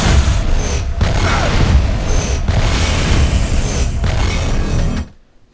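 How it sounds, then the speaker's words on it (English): Chain of warp rifle black hole explosions in the shooter game Fuse, a dense, continuous roar of booms and bursts with rhythmic pulses about every second and a half, loud throughout before cutting off abruptly near the end. "Naya can also tag enemies with the warp rifle and set off a chain of black holes"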